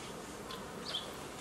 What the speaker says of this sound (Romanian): Nu avem burduf, avem motoraș cu baterii.